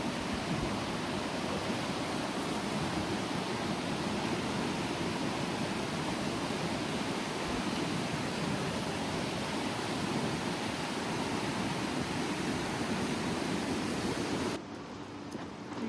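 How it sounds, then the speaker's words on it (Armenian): A rushing mountain river in Armenia gives a steady, loud, broadband roar of churning water that runs unbroken and alone, dropping off briefly at the very end. "Գետի խշշոց"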